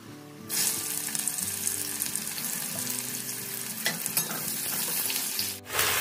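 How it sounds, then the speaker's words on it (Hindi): Whole garam masala spices and onion frying in hot oil in a home kitchen pan, a steady close sizzle throughout with a brief dip near the end. "इसी में डाल रही हैं खड़े मसाले और साथ में डाल रही हैं प्याज"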